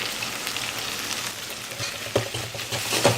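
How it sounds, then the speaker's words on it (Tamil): Onion, tomato and chili, coriander and curry masala powders frying in oil for a chana dal gravy, a dense close sizzle with spoon scrapes and stirring knocks that grow sharper near the end, no speech. "எண்ணெயிலே கொஞ்சம் நேரம் வதக்குங்க"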